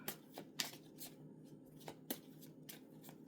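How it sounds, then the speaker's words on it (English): A deck of tarot cards is shuffled by hand in a quiet room, giving soft, irregular riffling bursts that repeat several times at close range. "Maybe give it a couple more shuffles"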